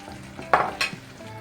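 Meatballs tossed with a spoonful of flour are stirred in a sizzling frying pan, two sharp scraping strokes rising over a quiet, steady fry, close up with no talk.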